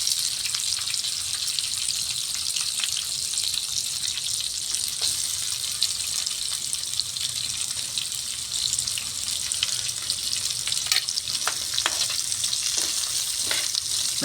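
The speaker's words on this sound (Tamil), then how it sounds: "வெங்காயம் நல்லா வதங்கட்டும்" Onions fry in hot oil after mustard seeds and green chilies for an egg omelette curry, a steady close sizzle with occasional stirring scrapes and pops throughout.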